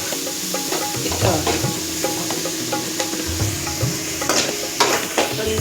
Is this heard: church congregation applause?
no